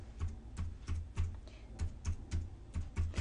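Keys clatter on a computer keyboard as a mobile phone number is typed into Excel 2010, with about ten evenly spaced, close taps in a steady rhythm and no voices.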